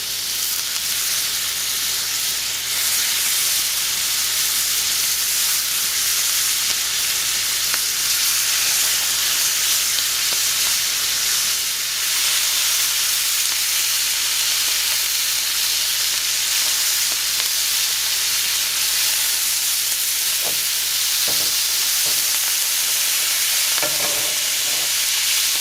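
Shrimp frying in butter in a hot pan, a loud, continuous close sizzle and hiss lasting throughout, with a few scraping stirs near the end.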